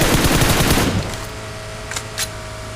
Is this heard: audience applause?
no